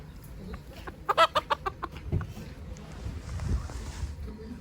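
A decorative rooster at a village market gives a quick burst of loud, sharp clucks, about half a dozen in a row, followed by softer low rustling and murmuring.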